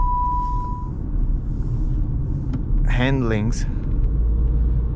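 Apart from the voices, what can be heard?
car driving on the road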